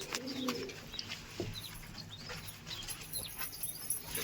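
Soft, low pigeon coos repeat faintly in the background amid light ambient noise and a few chirps, no one speaking.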